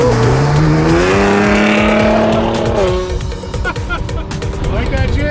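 A wide-body Nissan GT-R revs hard nearby, engine pitch climbing through gears with turbo spool whine, then dropping back to a rumble, with people talking over it.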